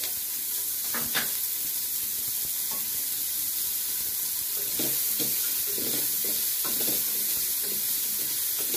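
Chopped onion sizzles and fries in just a little cooking oil in a pan, a steady close hiss with occasional stirring scrapes and crackles and no talking.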